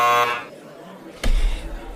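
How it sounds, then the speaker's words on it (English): A harsh electronic buzzer sounds at the very start, loud and brief, before dying away into quiet, followed by a sudden thump. "I got to give myself a buzzer for doing that"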